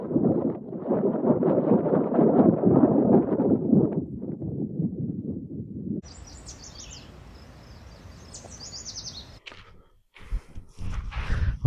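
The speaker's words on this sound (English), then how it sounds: "The wind's really picking up right now" Gusty wind roaring across the microphone at a dispersed mountain campsite near Monarch Pass, Colorado, loud and steady at first, then dropping away to quieter outdoor sound with birdsong.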